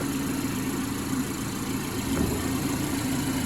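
A 2020 BMW X3's 2.0-litre TwinPower turbocharged four-cylinder idles with a smooth, steady low hum and faint even vibration, heard close and unchanging with no voices.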